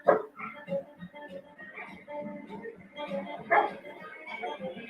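A dog barks repeatedly in a Subaru Crosstrek car advert, loud yelps and bow-wows spread across the stretch with bursts at the start and again near the end, over background sound.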